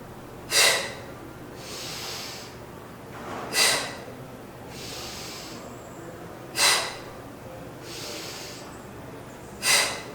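Four sharp, forceful exhales puffed out at steady intervals during an advanced Pilates exercise on a mat, each followed by a softer, drawn-out inhale, close and clear with no talking.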